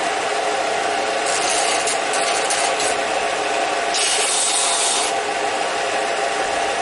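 Rough, rasping strokes of sanding against wood, close and continuous, with a couple of brighter, harsher passes, on a handmade child's rocker.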